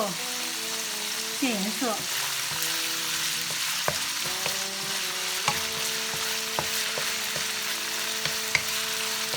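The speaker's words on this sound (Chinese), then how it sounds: "炒到猪肉" Pork stir-fries in a wok for an old Beijing zhajiang noodle sauce: a steady, close sizzle with occasional stirring clicks under soft tonal background sounds, and a brief spoken phrase.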